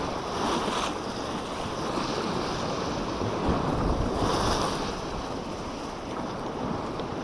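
Sea waves break steadily on the shore during spring fishing for gobies, a continuous rushing roar with two louder surges, mixed with gusty wind buffeting the microphone and no speech.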